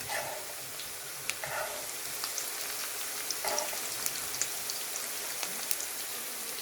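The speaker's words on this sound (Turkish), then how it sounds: "Şimdi bunları kızartacağım." Soft continuous crackling and spitting of eggplant frying in oil, with scattered sharper pops over a hissy bed, fairly quiet and close.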